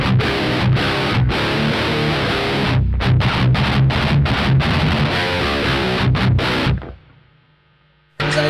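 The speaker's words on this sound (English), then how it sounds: "To stack fuzz into an already distorted sound" Baritone guitar played through a Spiral Electric FX Allora high-gain Darlington fuzz stacked into a crunch preamp, with thick saturated chords cut by rhythmic stops, then a sudden drop to near silence and a final burst.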